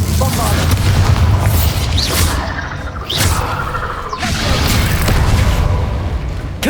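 Bombardo blasting spell in Hogwarts Legacy, deep booming explosions rumbling loudly in repeated bursts amid dense game effects.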